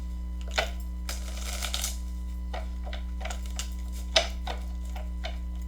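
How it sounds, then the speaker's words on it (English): A deck of tarot cards, bent from use, is shuffled by hand with soft papery riffles and rustles in uneven bursts, close and fairly quiet, over a steady low hum and no talking. "one more shuffle because my cards are bendy"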